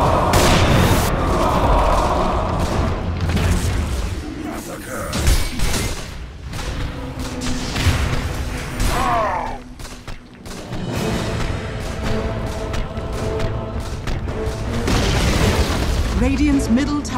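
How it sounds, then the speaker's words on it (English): Dota 2 battle at the Radiant middle tower as it is attacked and destroyed, with repeated booms, thuds and bursts of spell and impact effects across a busy mix, and voices talking over the action. "Radiant's middle tower has fallen."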